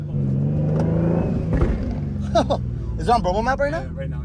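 A single-turbo Infiniti G35 Coupe on its first drive: the engine's low rumble rises under excited talk from the occupants inside the car.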